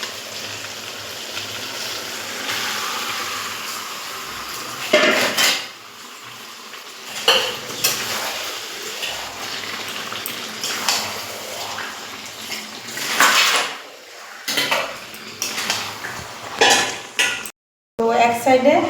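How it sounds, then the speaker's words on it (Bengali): Marinated chicken pieces in spices and yogurt tipped into a hot cooking pot, with a burst of sizzling, clattering utensil scrapes against the pot and wet stirring, close and fairly loud. "এবার মাংসগুলো দিয়ে দেবো।"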